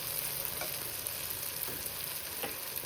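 Tomato thokku sizzling steadily in oil in a pan, cooked down until the oil separates at the sides, a continuous close frying hiss with a few faint stirring scrapes and no voices.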